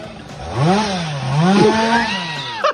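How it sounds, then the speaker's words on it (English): Chainsaw started up early in the morning, its engine note rising and falling in continuous revving passes, fairly loud and close throughout with a short sharp clatter near the end. "Do y'all usually start before 8 o'clock with a chainsaw?"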